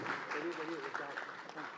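An audience at a youth conclave for content creators claps loudly and continuously, with a voice speaking over the applause.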